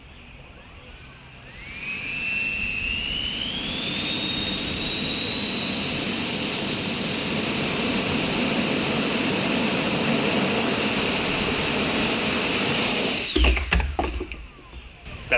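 Electric ducted fans on a 3D-printed drone spin up together into a loud, rising jet-like whine that holds steady at high pitch before cutting off abruptly near the end.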